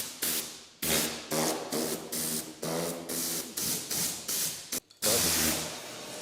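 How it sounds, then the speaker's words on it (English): Loud bursts of rushing air from a powerful vacuum blower, coming in about eight pulses with short gaps between them, then one longer blast at the end. "That's one monster of a vacuum right there."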